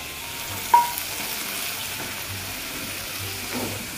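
Okra masala with tomatoes being stirred in a pan, a soft steady frying sizzle under occasional light scrapes and one sharp utensil clink, fairly quiet and without talk.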